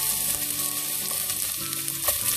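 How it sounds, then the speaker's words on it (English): Roughly chopped ginger frying in hot oil, a dense continuous sizzle that stays loud and close throughout with a few faint stirring clicks, no talking. "So our oil is hot now and I am going to add some roughly chopped ginger here."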